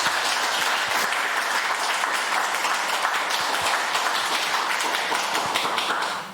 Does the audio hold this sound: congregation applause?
yes